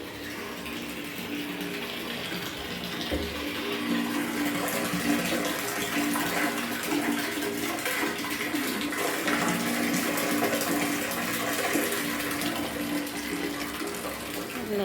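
Drinking water running from a tap into containers at a village house, a steady, loud, continuous gushing flow with faint mechanical rattling underneath, going on without a break.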